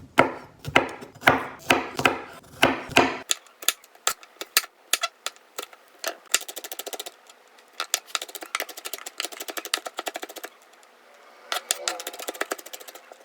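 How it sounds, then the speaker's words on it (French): A knife chops garlic on a board, first with a steady series of loud, evenly spaced cuts, then a faster run of lighter, close taps that pause and start again. "On commence par découper l'ail."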